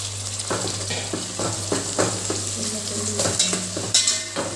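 Tomatoes and green chillies fry for chicken biryani under a steady sizzle, with a spatula scraping and clacking against the pot in a regular stirring rhythm, close and fairly loud, with no talking.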